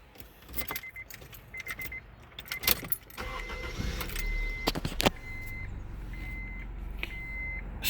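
Keys jingle and a regular chime beeps as a 2001 Integra is started with its original key; the engine catches and settles into a low, steady idle rumble under the repeating chime.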